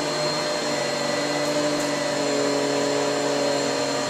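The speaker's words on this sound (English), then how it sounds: "Dancing to the grooves of the vacuum." A vacuum cleaner runs steadily at close range, a constant loud whirring motor drone with no pauses over the few seconds.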